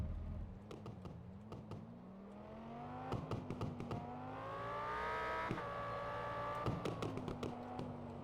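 A Lamborghini Huracan engine in a video game revs up and down in sweeping waves, with the pitch climbing steadily over time, while sharp clicks keep tapping through it.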